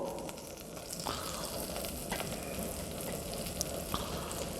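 Mirepoix and garlic sauteing in butter for a French mother sauce, a steady dense sizzle with occasional stirring clicks and scrapes, close and continuous with no talking.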